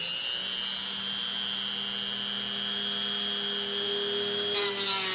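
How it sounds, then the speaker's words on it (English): A Dremel rotary tool cutting off an edge of a 1975–1976 Cadillac headlamp filler, a steady, close, high-pitched whine running throughout, with a slight rise in grinding noise near the end. "then we're going to cut this other edge off with the Dremel tool"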